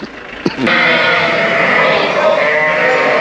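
A flock of ewes bleats loudly and continuously before the morning milking, overlapping calls forming a near, dense chorus after a brief quieter opening.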